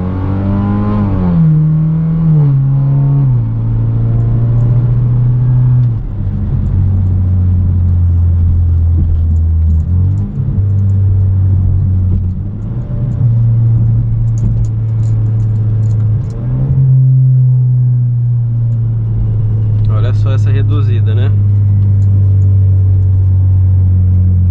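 A 2016 BMW 320i Sport 2.0 tuned to Stage 2 at roughly 280 horsepower revs hard from inside the cabin, its loud engine drone climbing and dropping through several pulls with steady, continuous rumble throughout.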